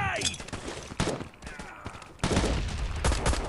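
Rapid bursts of gunfire from the mobile shooter Modern Ops, loud and dense, sounding like automatic weapons and volleys, with a few pauses between bursts.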